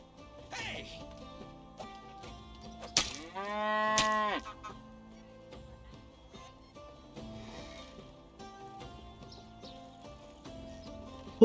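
A cow in the game Medieval Dynasty lets out one drawn-out, rising-and-falling moo over a light ambient game background with soft scattered sounds, fairly close and alone.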